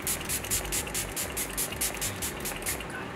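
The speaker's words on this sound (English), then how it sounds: "I'm going to go ahead and mist my face now with my Alegra setting spray" Alegra setting spray mists onto a face as a steady, close hiss, pulsing in quick repeated puffs.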